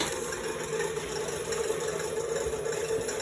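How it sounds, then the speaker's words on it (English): Electric mixer with no muffler whipping egg whites for waffle batter, a steady loud motor whir and buzz running continuously throughout with no talk. "I'm going to start whipping the whites over here."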